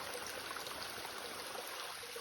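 A river runs along a forest portage in southern Algonquin in autumn, a steady broadband rush of flowing water, close and continuous, with no voices.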